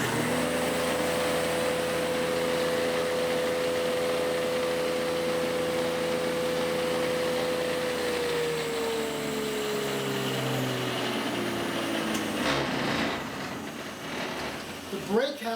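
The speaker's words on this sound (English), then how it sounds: "I'm going to turn it on so you can actually see this spiral cutter head come up to" A timber-framing shop woodworking machine with a spiral cutter head whines steadily as its motor runs, then the tone drops and slows as it winds down near the end, with background speech mixed in.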